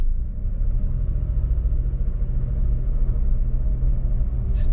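A manual car idles and revs gently while reversing, producing a steady low engine rumble that stays close and even throughout, with no voices.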